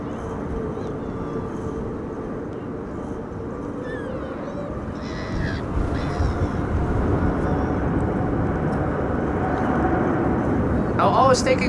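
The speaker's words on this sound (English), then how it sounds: "Singapore A350 taking off from runway 24 in a few moments" A Singapore Airlines A350 takes off from runway 24 at Amsterdam Schiphol in high winds, its engines a steady broad roar that slowly builds under strong wind noise.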